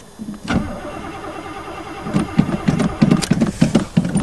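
A Chevy with a four-barrel 305 V8, sitting unused for months, is cold started in winter: a faint whir, then close, loud rhythmic cranking pulses in the second half, with no talking.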